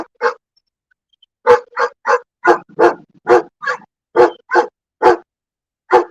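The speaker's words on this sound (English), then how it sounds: "Hear my dog barking." A single dog barks loudly and close by outdoors on a chilly morning, a burst of sharp barks in an irregular rhythm with brief pauses between them.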